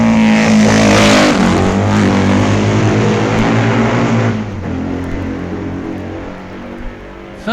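A Triumph racing motorcycle at the 1965 Isle of Man TT roars past loud and close, its engine note swelling and then fading steadily as it pulls away, with no talk over it.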